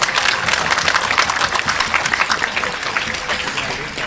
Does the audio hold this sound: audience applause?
yes